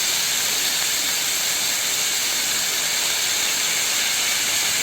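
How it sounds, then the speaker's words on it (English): Barbecue sauce is poured over a hot vegetarian sizzler plate. A loud, continuous hissing sizzle runs steady and unbroken throughout, with no voices. "generously pour over the barbecue sauce"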